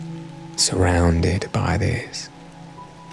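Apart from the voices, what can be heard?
falling rain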